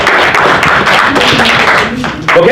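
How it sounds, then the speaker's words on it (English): A room of people at an agent coaching sales meeting applauds with steady, dense clapping that fills the whole stretch, while voices talk over it. "Give her a round of applause."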